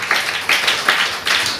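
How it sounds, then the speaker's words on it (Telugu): Church congregation clapping hard during a Sunday Pentecostal worship service, dense overlapping hand claps in loud surging bursts with no talk. "ఒకసారి గట్టిగా చప్పట్లు కొడుతూ దేవుని కనపరచండి"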